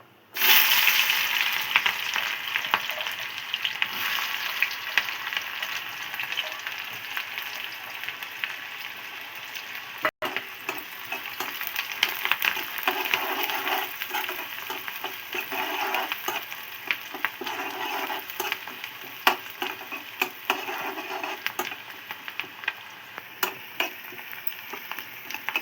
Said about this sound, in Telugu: కొంచెం ఫ్రై అయితే చాలు ఉల్లిపాయలు.